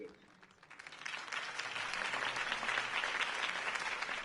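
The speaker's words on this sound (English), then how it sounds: "could have heard that applause" Crowd applause in Batman: The Telltale Series swells from a quiet start into a steady, dense roar of clapping that holds loud to the end, with no voices over it.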